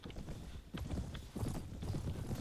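Horse hooves clip-clop during a medieval battle in the Prophesy of Pendor video game. The hoofbeats are quick and uneven and sit over a dense, rumbling background.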